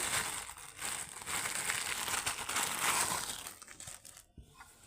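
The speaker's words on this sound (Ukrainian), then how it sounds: "Він в пакетику ми зараз розкриємо." A plastic bag holding a mini laser projector crinkles and rustles as it is opened, close-up and continuous, with scattered crunches before it quiets near the end.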